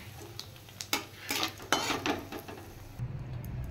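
Whole cumin, dry red chillies and a bay leaf hit hot oil after fish-curry lentil dumplings are fried, bringing a quiet sizzle broken by sharp clinks and scrapes of a utensil against the pan.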